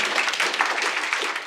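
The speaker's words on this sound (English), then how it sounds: "big applause to him." A short burst of dense applause from an audience at a company quarterly presentation, many hands clapping at once, steady and fairly loud throughout.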